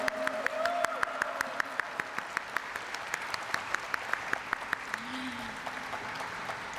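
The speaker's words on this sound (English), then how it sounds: "let's have a huge round of applause for Eco Mobility" Audience applause at a stock listing ceremony for Eco Mobility, a steady wash of many clapping hands with sharper claps spiking through, sustained throughout and moderately distant, with a brief voice underneath.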